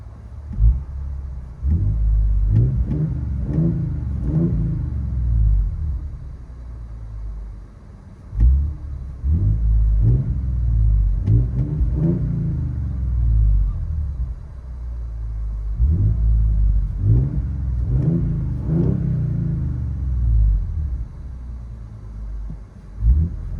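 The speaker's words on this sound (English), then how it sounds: "2026 Tundra with a muffler delete for your viewing pleasure" Heard from inside the cab, a 2026 Toyota Tundra 1794 Edition with a 3.4L twin-turbo V6 and muffler delete rumbles at idle and is revved in several deep, repeated surges; loud and steady, no talk.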